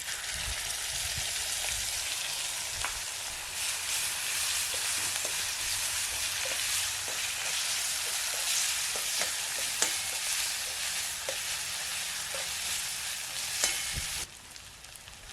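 Green chillies, ginger and garlic with curry leaves frying in oil in a pan while making batata vada in a village kitchen, a continuous dense sizzle with occasional stirring taps, close and steady.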